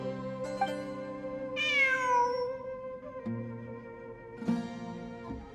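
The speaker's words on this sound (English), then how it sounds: "I'm not hearing things. It really is a cat." A cat meows in the video game Genshin Impact during a ruins exploration event, several drawn-out meows in sequence over quiet ambient game music.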